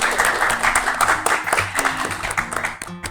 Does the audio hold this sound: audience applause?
yes